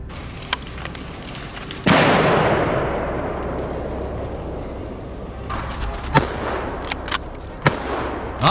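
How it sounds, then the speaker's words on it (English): One loud gunshot cracks out during a wild boar hunt and echoes away in a long fading tail, followed by a few fainter sharp cracks and knocks. "The sound of gunfire rings out in response, blending with the roar of victory."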